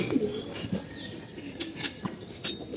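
Tournament racing pigeons coo close by in soft, throaty calls repeated several times, with light rustling and brief sharp sounds between them and no talking.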